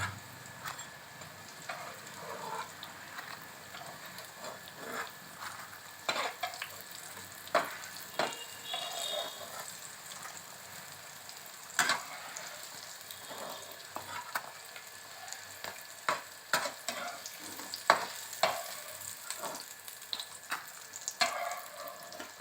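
Fish fritters sizzle softly in a pan, a quiet steady frying hiss broken by sharp clinks and scrapes as pieces are turned and lifted out, with no one speaking.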